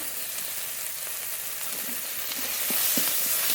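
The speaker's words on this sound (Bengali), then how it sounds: "মশলাটা একটু কষিয়ে নেব" Dry red chili, panch phoron, ginger paste, green chili paste, cumin, coriander, salt and turmeric sauté in a hot pan, a loud, steady close sizzle with a few stirring scrapes near the end.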